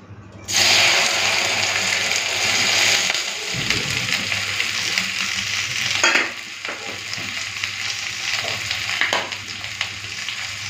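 Okra frying in a pan with turmeric and salt, a loud continuous sizzle starting suddenly, with scraping stirs and occasional clanks over the steady crackle.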